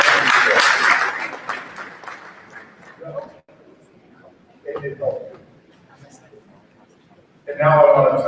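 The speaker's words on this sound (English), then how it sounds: "Please give these folks a warm round of applause." An audience at a WVU Tech new student convocation applauds family and friends, a burst of clapping that fades after about two seconds, giving way to a voice speaking; another swell of clapping rises near the end.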